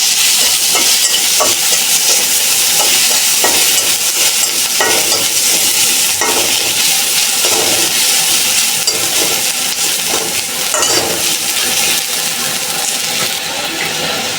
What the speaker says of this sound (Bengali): এই যে রসুন ভাজবা রসুন দিলাম